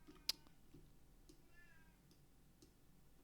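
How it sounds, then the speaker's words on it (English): A house cat meows softly in the background with a brief rising call, faint against a quiet room, preceded by a sharp click. "I don't know if you're picking up the sound of my cat in the background"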